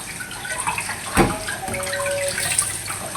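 A kitchen tap runs water steadily into a sink while someone washes up, with a sharp splash or knock partway through and faint clinks over the continuous flow.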